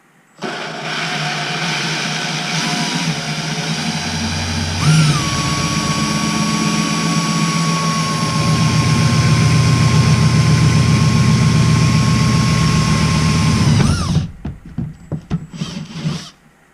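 A power drill boring holes through plastic hydroponic containers, a steady loud motor whine holding for about nine seconds and shifting pitch midway, then stopping abruptly with a few clattering handling knocks after.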